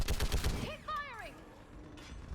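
Gunfire in the video game Mass Effect 3, a rapid burst of close, loud shots at the start giving way to a sweeping electronic whine as shooting continues under battlefield noise and a voice.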